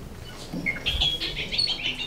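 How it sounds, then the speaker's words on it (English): A recorded bobolink call played at normal speed: a quick, bubbly run of high, tinkling chirps and warbles lasting about two seconds, with a faint low rumble underneath and no talking. "Bobolink, yes."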